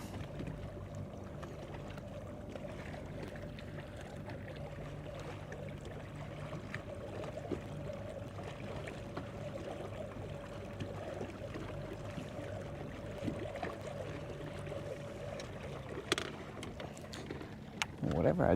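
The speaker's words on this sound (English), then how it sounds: "Let's turn up the speed on the trolling motor." An electric trolling motor pushing a bass fishing boat across water, a steady low hum with a faint constant whine and soft water wash, continuing evenly for the whole stretch.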